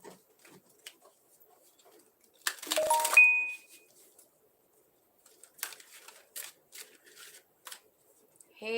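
Tarot cards riffled and shuffled in a brief loud burst, followed later by a run of soft, separate card snaps and slides as cards are pulled, close by and otherwise quiet.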